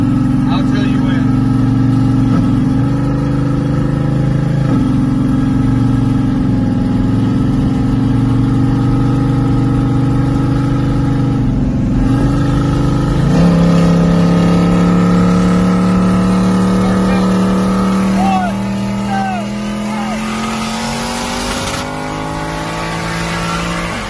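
A car with a 2JZGTE engine and a GR700 turbo runs loudly nearby, then revs and accelerates with rising engine tones and a whining pitch sweep.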